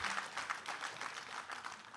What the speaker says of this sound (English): let's give a round of applause to them for all of the work that they have done